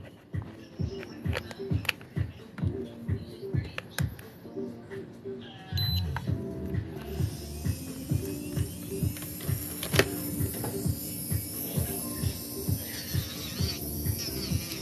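An electric nail drill spins at 15,000 RPM while it gently bevels gel nails. A steady high whine starts midway and runs over a regular, rhythmic ticking pulse, close and moderately loud.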